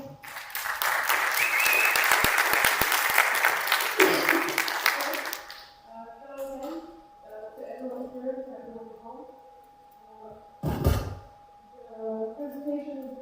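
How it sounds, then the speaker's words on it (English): A conference audience in Bled, Slovenia breaks into loud, dense applause that lasts about five seconds and then stops abruptly, followed by a speaker talking with a steady hum beneath and a brief loud bump partway through. "A round of applause, please."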